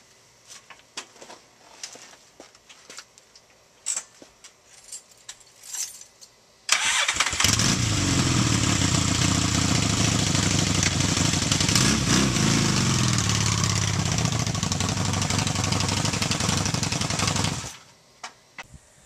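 A motorcycle engine cranks and catches near seven seconds after a stretch of faint clicks and handling noise. It then runs loud and steady close by for about ten seconds before it is cut off.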